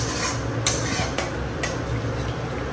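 Chicken is stirred in a pot with butter and water, giving a close, continuous wet churning with a few light metallic clicks from the spoon.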